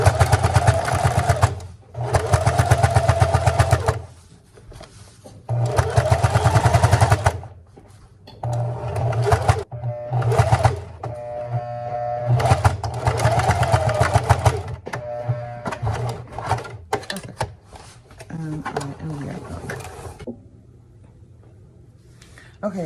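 Sewing machine stitching a fabric wallet: bursts of rapid mechanical clattering, several runs of a few seconds separated by pauses, close and loud, with quieter handling sounds between.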